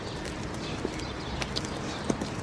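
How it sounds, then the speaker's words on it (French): Hooves of a baby horse clip-clop at a walk, a few scattered, fairly quiet knocks over a steady outdoor background hiss. "c'est un cheval bébé"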